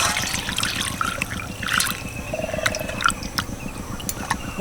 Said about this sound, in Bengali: আরও একবার জল দিচ্ছি